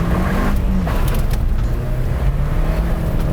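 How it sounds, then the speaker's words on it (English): A car launches from a standstill at the start of a lap around the Monte with stability control under test, its loud, steady engine roar and tyre noise sustained throughout with no voices. "Nice bit of wheel spin there to begin with"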